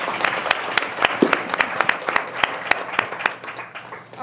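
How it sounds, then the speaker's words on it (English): An audience breaks into sustained, dense applause for three panelists at a women-in-tech event, many hands clapping at once in a lively burst that starts to thin toward the end. "A round of applause for all 3 panelists,"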